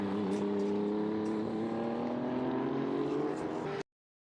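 A race car engine drones loud and steady with harmonic tones as the car comes into the pits at Magny-Cours during a live endurance race, holding close and constant before cutting off abruptly.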